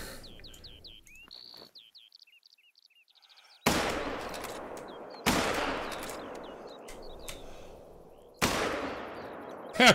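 Three loud, sharp rifle shots crack out in theHunter: Call of the Wild, each with a long fading echo, after a stretch of close chirping birdsong.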